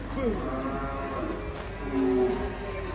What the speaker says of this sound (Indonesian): ini sapi raksasa dari Karanganyar